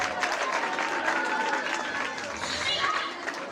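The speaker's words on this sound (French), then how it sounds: "Applaudissez s'il vous plaît." Crowd applause for primary school exam results at a school awards ceremony, a dense, steady clapping from a large audience that fills the whole stretch, with some voices mixed in.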